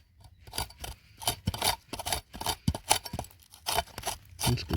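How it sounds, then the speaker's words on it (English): A tool scratches and scrapes at a layer of creek bank soil while someone hunts for amethyst crystals, making close, gritty rasping strokes in an irregular rhythm with no talking. "I'm just going to keep scratching at this for a bit."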